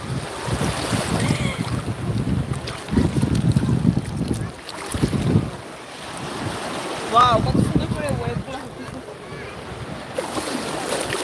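Waves roll and wash onto the shore at Lido beach in Italy in surging bursts, with heavy wind buffeting the microphone and voices of people talking nearby.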